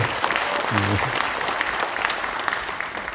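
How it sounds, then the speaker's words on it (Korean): Crowd of citizens at a Korean National Assembly member's legislative report meeting in Gwangyang clapping loudly and steadily, with a voice briefly calling out near the start. "들으라고 박수 한번 쳐드리세요."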